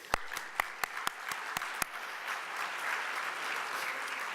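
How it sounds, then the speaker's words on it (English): Conference audience at a neuropathy plenary session applauding the organizer: a few sharp, distinct claps open, then the room swells into steady, moderate applause from a seated crowd. "I'm going to give him a personal round of applause."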